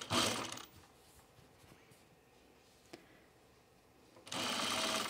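A sewing machine stitches a flannel shirt placket in two loud, fast-running bursts, one at the start and one at the end, with a quieter pause between them holding a single click.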